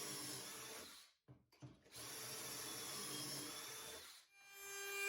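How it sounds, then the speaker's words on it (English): Pocket holes drilled into 2x4 pine boards with a Kreg jig for a kids' wooden step stool: a loud, close, whining power drill in two long bursts separated by a short pause. "Here I'm using my Craig jig to make all the pocket holes that I previously marked on that mock-up."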